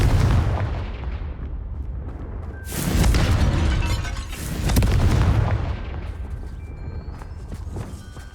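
Confringo spell blasts in Hogwarts Legacy burst out as two loud, booming explosions with crackling tails, separated by rumbling gaps and heard with no talking.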